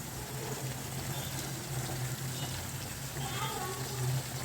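Small onions and curry leaves frying in hot oil for mutton curry, a continuous close hissing sizzle that swells slightly near the end, with someone talking over it.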